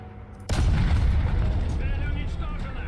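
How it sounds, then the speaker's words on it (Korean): A tank's fuel tank explodes in War Thunder on a Leclerc: a sudden loud boom at half a second gives way to a dense, sustained roar with mechanical rattling and crackle that slowly fades. "연료 폭발 맞네"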